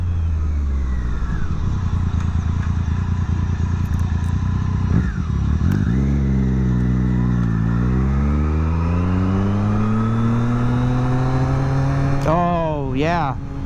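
Motorcycle ridden through traffic, a loud close engine hum with revs rising and falling as it shifts gears, then a sharp rev near the end, with someone talking over it throughout.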